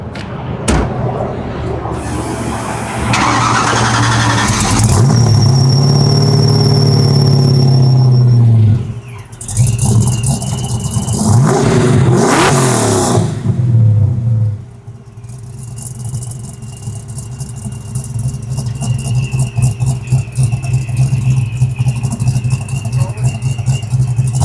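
Supercharged Ford Mustang Foxbody with a Flowmaster catback exhaust, revved hard several times, rising to a loud roar with a whining supercharger squeal before dropping back to a throbbing idle, heard up close.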